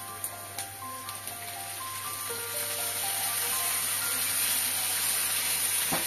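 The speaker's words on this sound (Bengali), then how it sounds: "পেঁয়াজটা দেখো হালকা হালকা ভাজা হয়ে গেছে। এবার আমি কি করব, এর মধ্যে মাংসটা অ্যাড করব।" Mutton goes into a pan of lightly fried onions for a Bangladeshi mutton tehari, and a close sizzle builds from a few soft crackles to a steady, loud frying hiss.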